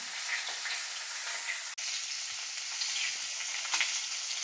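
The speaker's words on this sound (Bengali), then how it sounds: "তো বড় মাছ ভাজা করছি" A large fish sizzles steadily in hot oil in a pan, a continuous crackling hiss with occasional pops and stirring, no voices.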